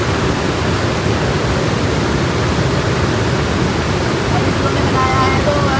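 A mountain river rushes steadily alongside a trekking trail in the Himalayas, a loud, unbroken broadband roar with no breaks, and faint voices emerge briefly near the end.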